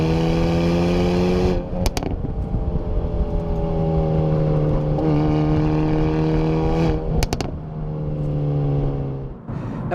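A 2023 Hyundai i30N hot hatch's loud, droning exhaust rumbles steadily with a deep tone, rising and falling slightly as the engine revs, with brief clicks in between.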